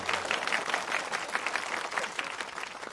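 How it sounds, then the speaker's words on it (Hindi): Applause from a crowd at a comedy performance in a Hindi dubbed film: steady, dense clapping throughout, moderately distant and fairly quiet. "तालियां।"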